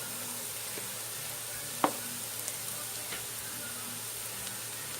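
Sofrito hits a hot frying pan and sizzles in a soft, steady hiss, with one sharp clank of utensil against pan near the middle and a few lighter taps after it.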